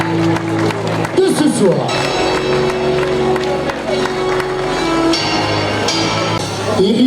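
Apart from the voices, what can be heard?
crowd applauding the race finishers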